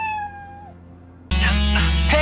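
A cat meows in a cat video, a high drawn-out tonal cry that falls off, followed after a short gap by a much louder, harsher burst that fills the rest of the moment.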